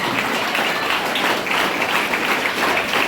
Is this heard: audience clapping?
yes